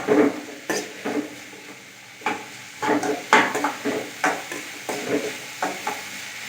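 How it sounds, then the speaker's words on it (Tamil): Onions sautéing in a pan for a Tirunelveli-style urundai kuzhambu, heard as a series of close spatula scrapes and stirring strokes in an irregular rhythm over a soft, low sizzle. "ஆனியன் இது கூட வந்து ஆட் பண்ணி ஃப்ரெண்ட்ஸ் ஆனியன் கொஞ்சம் நல்லா வதங்கட்டும்"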